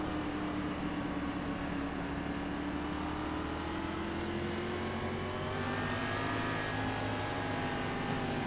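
Sim racing game cars from an AMR Gen 6 Cup Series race at New Hampshire accelerate on a restart, their engines a steady, dense roar with tones rising slightly in pitch and no break throughout.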